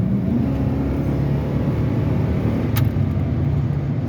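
A 6-liter engine in a 3/4 ton truck runs at a steady idle, close and loud, with a continuous low rumble. A short sharp click cuts in partway through.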